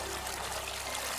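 Bath water draining in a cartoon bathroom, heard as a steady, continuous rushing trickle that stays even in level throughout, with no voices.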